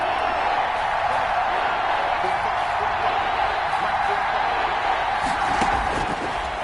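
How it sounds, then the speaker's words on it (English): A stadium crowd in a PS4 football video game roars steadily before a big third down, a dense continuous cheer at constant loudness. "And the crowd getting into it as we come up on a big 3rd down."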